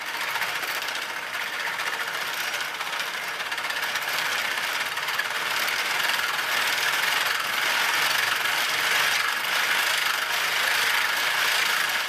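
A pericyclic gearbox with yellow gears and a bent shaft spins at around 1000 RPM, making a steady high mechanical whine and buzzing rattle that stays constant and close throughout, with no voices.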